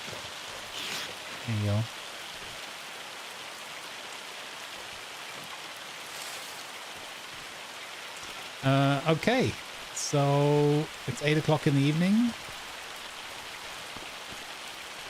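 Rain drums steadily in Farming Simulator 25 and keeps its full loudness even indoors, a constant dense hiss throughout, while a person talks in short bursts over it.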